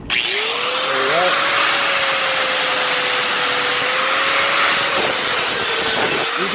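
Angle grinder fitted with a flap disc grinding metal in a workshop, a loud, steady abrasive roar with a faint whining tone running continuously from start to end, alone with no talk.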